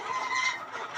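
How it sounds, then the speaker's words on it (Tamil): Peruvidai fighting rooster and hens of a heavy lineage breed, a brief burst of close, throaty clucking from the flock. "எல்லாம் லைனேஜ் ஃபைட்டிங் சேவல் தாங்க, ஃபைட்டிங் கோழி தான்."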